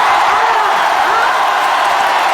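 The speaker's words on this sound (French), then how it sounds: "On applaudit encore très fort." Loud, dense crowd noise from an audience, a steady roar of applause and cheering without pauses, with voices mixed in.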